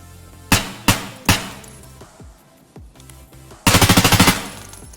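Gunfire from a gun in Escape from Tarkov: three sharp, separate close shots, a short pause, then a fast automatic burst of about eight rounds, loud and clear with nothing else behind it.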